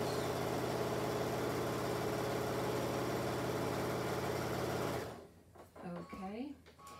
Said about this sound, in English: I'm just going to sew this side first that is opposite of the folding side.